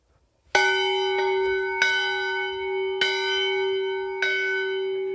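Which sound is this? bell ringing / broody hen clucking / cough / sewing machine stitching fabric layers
bell ringing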